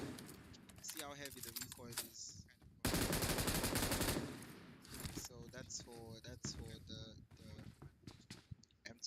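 Heavy automatic gunfire from a machine gun in the PUBG Mobile video game, a dense loud burst of rapid shots lasting over a second, with someone talking before and after it.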